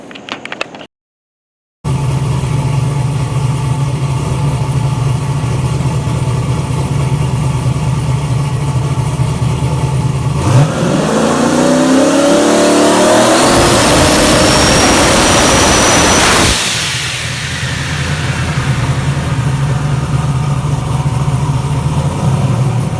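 A race car engine on a trans brake roars at a loud steady idle, then revs as the turbo spools with a rising whine that climbs and fades back to a loud drone.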